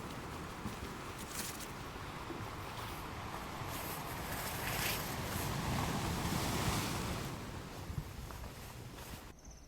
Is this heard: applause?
no